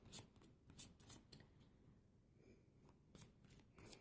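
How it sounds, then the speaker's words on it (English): Archangel Metatron oracle cards are shuffled in short bursts of crisp, close riffling and flicking, with a quiet pause in the middle before the shuffling resumes. "shuffle the Archangel Metatron cards as well."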